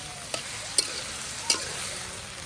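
Fish fries in a pan with a steady close hiss, broken by a few sharp clacks and scrapes as it is stirred.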